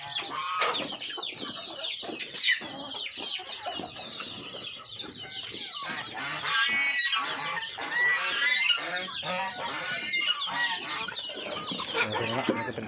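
Chickens clucking and squawking in a duck and chicken pen, a busy, continuous flock chorus of overlapping calls at close range, with what may be goose-like honks mixed in.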